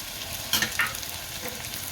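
Ground coriander-cumin powder drops into hot oil and sizzles in a steady hiss, with a couple of brief brighter bursts as the spice lands and gets stirred.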